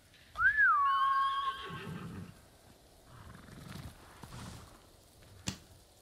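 Horse in the video game Ghost of Tsushima gives a single loud, rising-then-falling whinny, followed by softer snorts and shuffling, with a sharp thump near the end and no talk.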